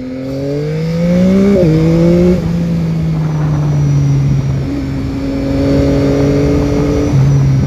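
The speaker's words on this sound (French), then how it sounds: "Alors, les petits retours de flamme, ça fait plaisir." A 2021 Yamaha MT-09 motorcycle engine revs and drops through gear changes, loud and close, its droning exhaust tone shifting in pitch, with a small exhaust pop during deceleration.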